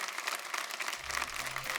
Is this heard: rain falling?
no